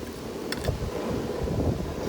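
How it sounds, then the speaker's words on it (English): Steady outdoor wind rushes and buffets the microphone throughout, a low broad roar with a couple of faint higher clicks near the start. "Ooh, it's windy."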